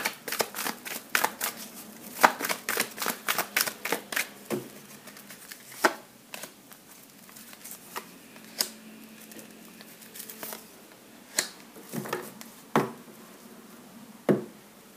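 Tarot cards handled during a reading: a dense run of crisp riffling and slapping card sounds for the first few seconds, then scattered single flicks and taps as cards are drawn and laid down, fairly close and quiet, no talking.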